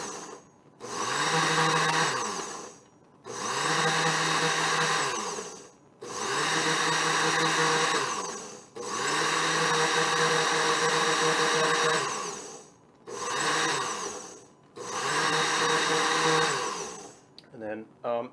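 An Oster blender runs in loud, steady bursts of whirring with short pauses between them while it purees spinach pesto inside a mason jar, about six pulses in all.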